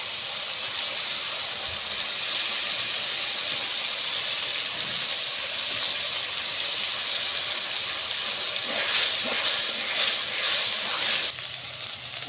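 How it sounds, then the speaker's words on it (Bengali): Onion and garlic paste hitting hot oil in a home kitchen as meat is readied for cooking: a continuous broad hiss of sizzling, fairly loud and close, with a burst of sharper crackle near the end and no speech. "পেঁয়াজ বাটা, রসুন বাটা হচ্ছে এখন দিয়ে দিল তেল দিয়ে"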